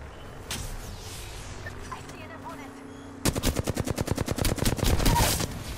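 Rampage LMG fire in Apex Legends, starting with quieter in-game sounds and then bursting into a rapid, loud string of evenly spaced shots for the last couple of seconds.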